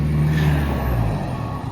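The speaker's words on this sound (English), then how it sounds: "so here's a car coming up," A single car approaches along a road and rumbles past close by at a steady, fairly loud level, fading slightly toward the end.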